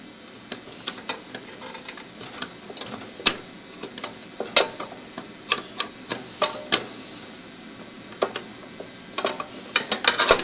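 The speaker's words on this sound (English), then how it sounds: "Let's tighten down that screw." A screw is tightened inside a solar combiner box, giving a series of sharp, close clicks and ratcheting ticks in irregular bursts with short pauses between them.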